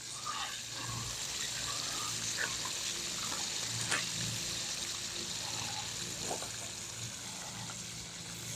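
Whole catfish fry in hot grease with a low, steady sizzling hiss, fairly faint and continuous, with a few soft pops and no talking.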